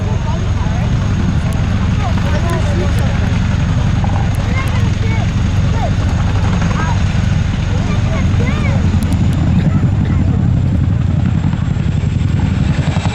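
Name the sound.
Boeing Chinook HC.6 helicopter flying at an air show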